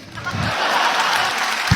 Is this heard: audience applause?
yes